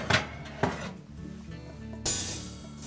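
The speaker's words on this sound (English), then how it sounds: "remove oven rack so we have easy access to the element mount" A metal oven rack is pulled out of a GE electric range, giving a few sharp metallic clanks and scrapes, two near the start and a louder one near the end, with quieter rattling between.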